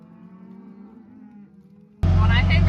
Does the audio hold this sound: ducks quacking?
no